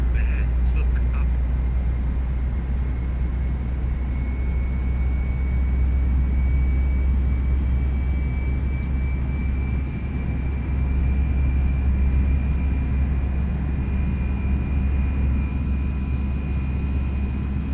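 CFM jet engines of a FlightFactor A320 in a flight simulator give a continuous low roar with a steady high whine rising slightly as they spool up, heard for a long stretch without a break.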